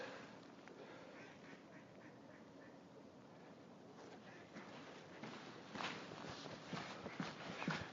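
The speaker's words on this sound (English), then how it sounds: "This is Blenkinsop Lake and some ducks." Ducks quacking at Blenkinsop Lake, heard over steady outdoor background noise with footsteps on a walking path, growing a little louder toward the end.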